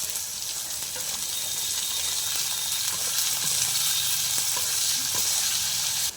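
Peanuts, torn chillies and chopped onion frying in oil in a pan, giving a steady, dense hiss of sizzling with faint stirring clicks throughout, close and continuous.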